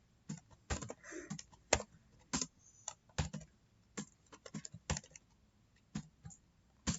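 Typing on a computer keyboard while configuring static routing in a network simulator: a steady run of close, crisp key clicks in irregular bursts, with a few louder strokes and no speech.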